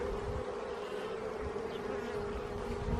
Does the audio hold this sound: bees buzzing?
yes